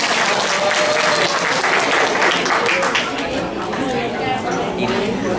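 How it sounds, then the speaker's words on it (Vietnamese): Sustained audience applause for ten finalist singers at a Vietnamese singing contest final, a dense, steady wash of many hands clapping throughout, with faint crowd chatter underneath. "xin quý vị cho một tràng pháo tay cho tất cả 10 giọng ca đã tham gia ngày hôm"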